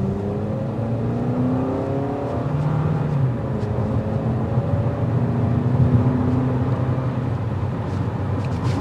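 A 2024 Toyota Camry XLE with the four-cylinder engine pulls hard in sport mode, its engine droning steadily and rising in pitch through gear changes under constant road and tire noise heard from inside the cabin.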